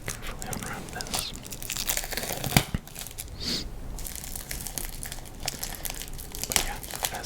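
Foil packaging on a Pokemon Silver Tempest Elite Trainer Box is unwrapped up close, with continuous loud crinkling, crackling and tearing and a soft voice at moments.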